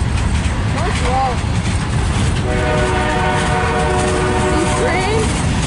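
A CSX M200 eastbound freight train rumbles past at Fostoria, Ohio, a loud continuous roar with a long sustained horn blast partway through, while people talk nearby.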